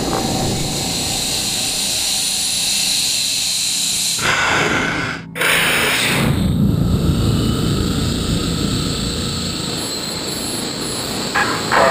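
A small Lego-block model rocket launches with a steady, loud roaring hiss that surges briefly around the middle before continuing at full strength.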